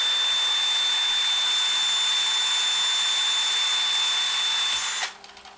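A power drill spins an RC car wheel on its wheel nut, making a steady, loud high-pitched whine that holds for about five seconds and then cuts off abruptly as the spin winds down.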